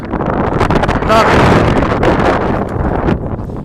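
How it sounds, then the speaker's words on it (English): Strong gusting wind roars and buffets the microphone continuously, loud and close, with a voice faintly mixed in underneath. "as a meteorologist, you should know this is gusting wind"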